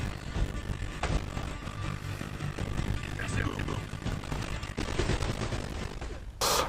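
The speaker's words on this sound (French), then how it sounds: "on a l'air d'avoir une mitrailleuse là par là" Machine gun fire crackles in rapid bursts during Uncharted gameplay, mixed with other game noise, under a steady dense background with a loud burst at the very end.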